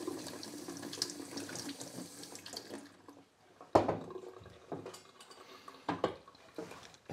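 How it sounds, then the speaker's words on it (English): Tap water runs and splashes while a dissolved oxygen sensor is rinsed under it, with a pause and a few sharp knocks and clatters of the sensor against the sink. "so we can just do that in tap water."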